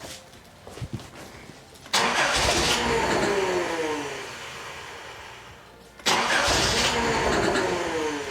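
A Nissan 200SX turbo car engine cranks and fires twice. Each start rises into a loud, close, rough roar, and the first one sags back down before the engine is restarted.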